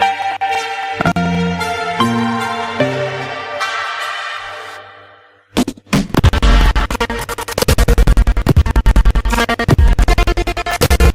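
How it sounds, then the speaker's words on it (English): Stepped synth chords give way after a short pause to a loud, dense electronic drop with driving beats and buzzy, pulsing synths. "the drop synths get introduced here for the first time."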